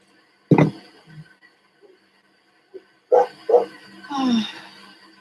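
A dog barks several times indoors during rain, a sharp bark first, then a short burst of barks and a drawn-out yelp or whine, with quiet gaps between.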